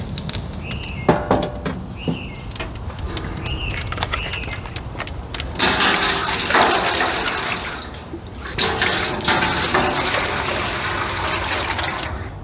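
Maple sap pours steadily into an evaporator pan, a continuous rushing, trickling stream that swells louder midway, with a few faint bird calls in the background.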